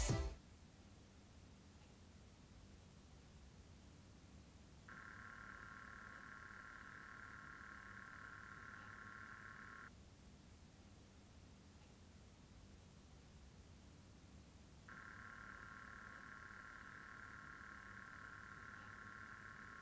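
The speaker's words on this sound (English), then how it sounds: "let's have a listen on how the CPU block sounds like in operation" An ID-Cooling Hunter Duet II AIO CPU block pump runs with a steady, low broadband hum. A higher tonal whine comes and goes in long stretches over it, and no one speaks.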